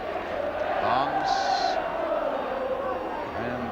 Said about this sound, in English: And the Welsh crowd are saying, "We want 5."